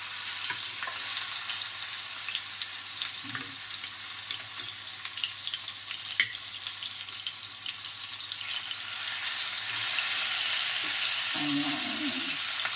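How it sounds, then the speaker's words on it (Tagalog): Salmon frying in a hot pan, a loud, continuous sizzle and crackle with occasional stirring clatter and a short burst of running water. "Mainit na ating kawali. Ayan. Lagay na po natin itong ating salmon."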